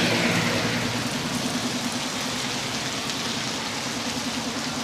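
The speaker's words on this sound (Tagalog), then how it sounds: "Yan yung lakas ng ulan na yan." Dense, steady hiss of heavy rain pouring down, with a low engine-like rumble underneath; no voices.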